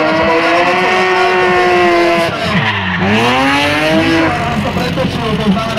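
A BMW M5 and a BMW E30 drift at the King of Drift Slovakia 2009 event, engines revving hard with a dip and climb in pitch while tyres squeal loudly and continuously up close.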